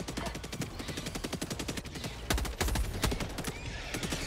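Rapid automatic gunfire from a weapon in the video game Helldivers 2 rattles on without pause, a dense stream of loud, evenly spaced shots with a few heavier bursts midway.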